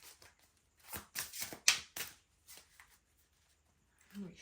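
Tarot cards being shuffled by hand in several quick riffling bursts, close and fairly loud, separated by short quiet gaps.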